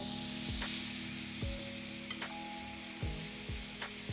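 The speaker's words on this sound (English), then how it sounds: "I'm just going to cook this for about 10 to 15 minutes." Pork slices sizzle steadily on a hot griddle pan, a continuous close hiss broken by a few sharp pops and crackles spaced through the clip, with no talking.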